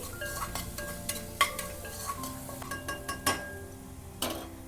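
A spoon stirs turmeric into egg curry in a pan, giving soft scraping strokes and light metallic clinks against the pan over a quiet sizzle, steady and fairly close.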